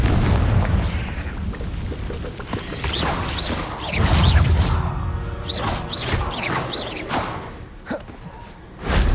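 A Confringo fire spell from Hogwarts Legacy bursts in loud, booming explosions with crashing debris, continuous and dense and with no talk over it.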